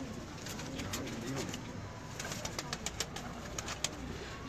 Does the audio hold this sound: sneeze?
no